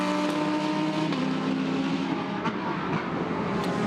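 GT race cars in a Blancpain GT Sports Club race at Misano, braking and powering through corners, a continuous close engine roar with shifting pitch as they pass, under a faint commentary voice.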